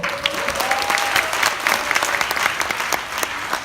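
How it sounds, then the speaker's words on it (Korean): Seminar audience at the InterContinental COEX hotel breaks into applause, a sustained dense clatter of many hands clapping at moderate level, with a faint voice briefly audible beneath. "박수 한번"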